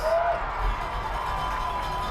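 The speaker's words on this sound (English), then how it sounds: "The fans are cheering like it was" Football crowd cheering at a match, a steady broad roar of many voices filling the clip without clear peaks.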